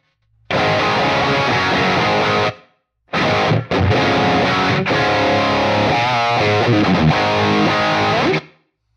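Loud distorted electric guitar chords played through a Quad Cortex with room ambience ring out with a roomy reverb tail, cutting off briefly near the start before continuing and fading out.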